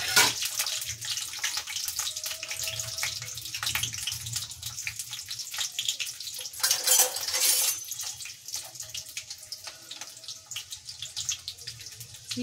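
Peeled garlic dropped into hot oil in a home kitchen pan, frying with a steady, close, crackling sizzle that runs throughout, with a brief louder burst partway through and no voices.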